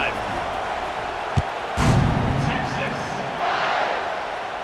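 Stadium crowd roar from the College Football 26 video game, a steady broad wash of cheering that swells briefly louder after a sharp thud, with a commentator's voice over it.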